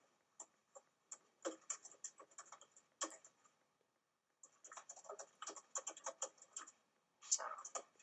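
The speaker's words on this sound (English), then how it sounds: "So I can just type a comment." Someone types a comment on a computer keyboard, quick light key clicks in two runs split by a short pause, quiet and close with no other sound.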